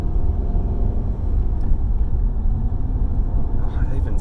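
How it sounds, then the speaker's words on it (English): A rebuilt LS1 V8 engine hums steadily from inside the moving car, a smooth, low, continuous rumble held at a constant level for the whole stretch with no break. "it even sounds like a V8"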